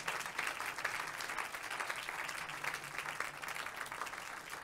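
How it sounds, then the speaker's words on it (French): Sustained applause from a conference audience, dense and steady clapping at moderate loudness throughout, with no pauses and no talk over it. "pouvez applaudir si vous voulez."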